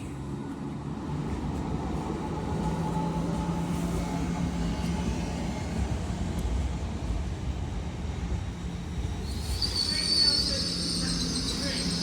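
An East Midlands Railway class 170 diesel unit departing Doncaster station toward Lincoln Central, a steady low engine rumble and rolling drone with a high metallic squeal rising near the end.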